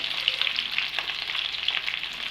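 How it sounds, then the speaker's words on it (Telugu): Stuffed eggplants fry in oil with masala, a steady bright sizzle with crackling pops, close and continuous with no voices. "మంచిగా ఫ్రై అవుతాయి మసాలా అంతా బాగా వేగుతుంది"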